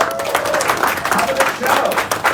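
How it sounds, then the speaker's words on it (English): Audience applause for Tino at a Foglifter Journal Issue 9.2 release reading, a steady patter of clapping from a crowd that continues for a couple of seconds, close and fairly loud, with voices mixed in underneath. "Now let's give a big round of applause for Tino!"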